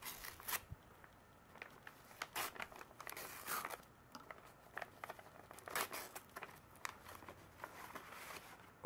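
Faint crinkling and tearing of packaging as a mail parcel is pried open, irregular rustles and crackles close by.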